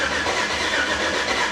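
A Chevy C10 fitted with a Holley EFI system cranks over in a continuous mid-pitched mechanical drone, close and steady, with no voices.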